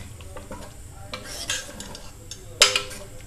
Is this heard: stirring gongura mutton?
yes